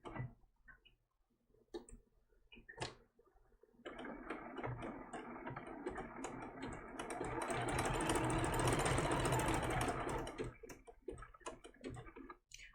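A sewing machine stitches appliqué on a quilt, first a few short taps, then a steady run of fast stitching for several seconds that trails off into sparse clicks, fairly quiet throughout.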